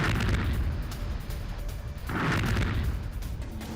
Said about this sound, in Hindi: मॉल में शॉपिंग कर रहे लोगों के बीच ही धमाके की ये आवाज और सीसीटीवी तस्वीरें सामने आ रही हैं।